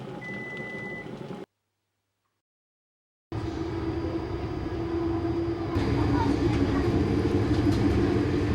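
A train sits in a station with a low rumble and a thin repeating beep, then cuts to silence for about two seconds before a louder, fuller rumble returns and builds steadily.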